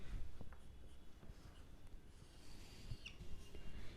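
Marker or chalk writing on a classroom board during a math lesson, faint scratchy strokes and light taps in short irregular bursts, quiet and close, no talking.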